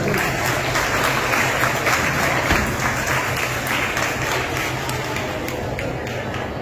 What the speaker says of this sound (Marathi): त्यामुळे पुन्हा उद्योजकांसाठी सुद्धा सगळे आपण टाळ्या वाजवूया